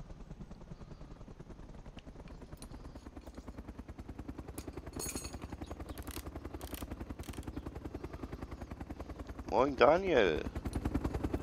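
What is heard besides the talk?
aircraft, likely a helicopter, flying in DayZ Epoch (Arma 2 mod) video game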